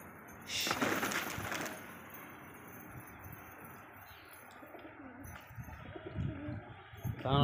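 Soft, low coos of pet pigeons at their coop murmur nearby amid a hiss of background noise, with a brief louder rustle early on.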